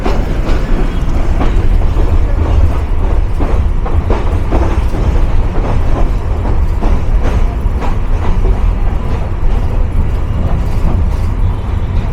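Commuter train rolling through station platforms at night, a steady loud rumble and rattle with repeated wheel clacks over rail joints, heard from on board without talk.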